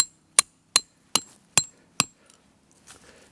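A hammer striking a tarp peg into the ground: six sharp, evenly spaced metallic blows, each ringing briefly, then a few faint rustles in a quiet outdoor setting.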